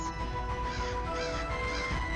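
Crow-like birds caw harshly in a dense, overlapping chorus, loud and continuous, set against a steady background hum.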